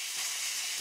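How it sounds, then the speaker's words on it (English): Steady broadband hiss of compressed air venting from a small steam pump's exhaust, continuous and fairly close, with no voices. "it's just blowing the air out of the exhaust"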